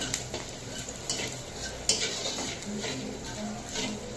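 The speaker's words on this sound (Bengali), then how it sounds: "জাল বন্ধ করে পাঁচফোড়নটা একটু নেড়ে নেব" A spoon stirring panch phoron spices in a pan with the flame switched off, giving soft scraping and a faint sizzle with light clinks of metal on metal, close and steady.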